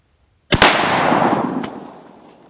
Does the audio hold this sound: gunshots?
yes